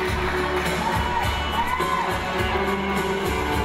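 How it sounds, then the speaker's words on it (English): A steady wash of crowd noise with cheering and whoops at the Miss Polonia USA 2015 pageant, holding at an even loudness throughout, with only faint hints of clapping. "Let's have a big round of applause for the beautiful Miss Alexander."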